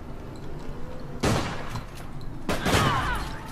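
Gunfire in the video game APB Reloaded comes as two loud bursts of shots about a second apart over a steady low background.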